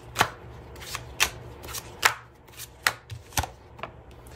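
Tarot deck being shuffled close by, with a series of crisp riffling card snaps falling at an uneven rhythm of roughly one per second, and no talking.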